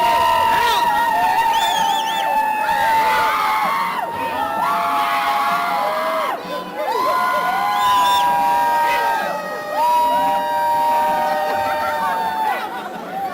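A large crowd at a Hillary Clinton political rally in an arena cheers and whoops loudly and continuously, with shouting voices swelling and dipping in waves throughout.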